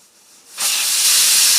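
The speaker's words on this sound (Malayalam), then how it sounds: "അങ്ങനെ ഇപ്പോൾ നമ്മുടെ 3ാമത്തെ വിസിലും അടിച്ചിട്ടുണ്ട്" A pressure cooker whistles, releasing a loud, steady jet of hissing steam that starts abruptly and holds, with a quieter hiss leading in beforehand. The cooker holds papaya being cooked for a stir-fry.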